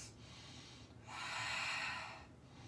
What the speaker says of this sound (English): Give me 2 more huge breaths.